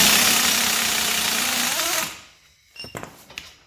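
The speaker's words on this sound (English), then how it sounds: "Go back to saying this air gun is a piece of crap" A pneumatic impact air gun rattles loudly in one continuous burst of about two seconds on the front brake parts of a 2000-2004 Ford F250 Super Duty 4x4, then cuts off, followed by a few sharp metallic clanks.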